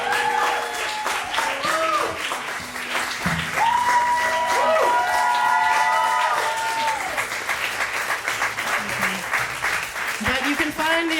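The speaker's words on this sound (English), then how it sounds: "Can we please give a very warm round of applause to the band?" Applause and cheering from a live music crowd for the band at a pub gig, clapping under loud voices and shouted whoops, with people talking over it throughout.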